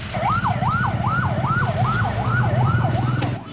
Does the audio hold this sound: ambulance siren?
yes